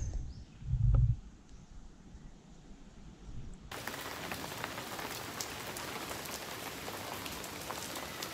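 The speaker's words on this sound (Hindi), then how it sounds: "पूरे राइड में बारिश नहीं हुई, जो अभी लास्ट 15 मिनट में हुई।" Rain falls at a roadside stop on a motorcycle ride, a dull thump at first, then a sudden steady hiss of drops spattering on surfaces that continues evenly to the end, with no talk.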